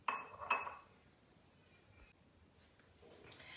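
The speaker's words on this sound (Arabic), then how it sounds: "هنايا راه رجعت ثاني خلطت المكونات اللي عندي" Cake batter for a chocolate cake mixed in a bowl, two quick clinks of a utensil against the bowl at the start, then a faint soft stirring sound.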